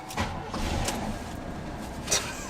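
A Chevy square body truck engine cranks and catches, then settles into a steady mid-pitched idle, with a brief louder burst near the end.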